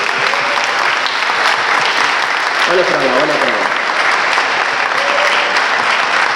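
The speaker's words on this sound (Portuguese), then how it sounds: "Vamos aplaudir Jesus por a vitória da luta também" A church congregation applauds loudly and continuously, a thick sustained wash of clapping, while a voice speaks briefly over it partway through.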